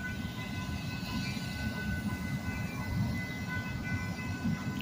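Freight train with Union Pacific grain hopper cars rolling past outdoors: a continuous loud rumble and rattle of wheels on rail with faint high squeals, steady throughout.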